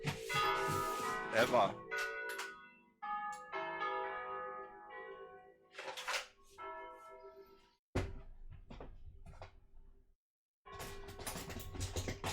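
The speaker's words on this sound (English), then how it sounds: "that's the worst church bells" Church bells ringing nearby in bursts, with resonant tolling strikes separated by quieter gaps, while a person speaks over them and a sharp thunk cuts in partway through.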